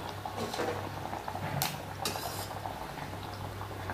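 Pumpkin gharge dough sizzles and bubbles steadily in hot oil, with a couple of brief sharp clinks of a utensil against the pan partway through.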